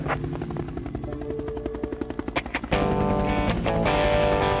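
Rhythmic helicopter blade thumps build in pace, then a dense, loud burst of automatic weapons fire takes over in a Vietnam combat setting.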